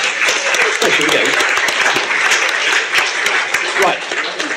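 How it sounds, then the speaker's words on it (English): Steady round of applause from an audience at a King's College London election night event, dense and continuous without pause. "Was that going to be a round of applause?"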